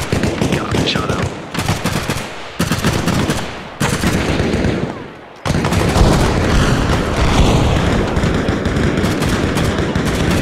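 Heavy gunfire and booming impacts of high-explosive artillery rounds in the Arma Reforger Vietnam jungle combat game, dense and loud throughout with short gaps, a brief lull, then sustained rattling fire and blasts.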